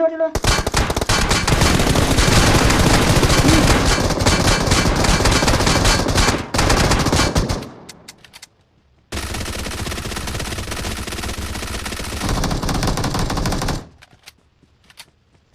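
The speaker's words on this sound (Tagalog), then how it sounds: "Ang buti maril mo, ano machine gun ka pala." Rapid machine gun fire in PUBG Mobile rattles loudly in two long sustained bursts separated by a brief pause, ending in quiet.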